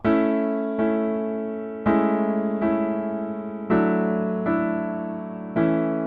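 Solo piano plays the opening of a pop song, with sustained chords struck every second or so and a short repeated melody ringing between them, clear and close with no voices.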